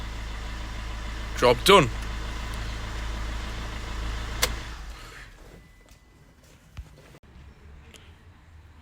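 A car engine at a garage runs steadily at idle for about five seconds, low and continuous, then cuts off into near quiet with a few faint knocks; a brief voice is heard over the engine noise early on.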